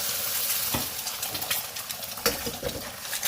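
Eggs fry in a hot pan for egg fried rice, giving a steady close sizzle with occasional stirring scrapes and crackles over a few seconds, with no speech.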